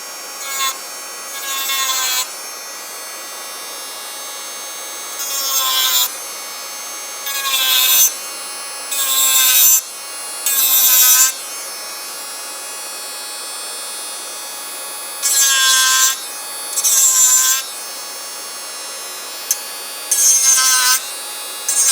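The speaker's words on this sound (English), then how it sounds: "Turn the drill bit on." An electric nail drill fitted with a tungsten bit, running at about 15,000 RPM, whines and grinds in repeated short bursts, with quiet hum between them, close to the listener.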